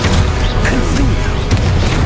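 A Confringo fire spell blasts in the Hogwarts Legacy video game, with dense, loud booming bursts crowding the short moment and a voice calling spells over them.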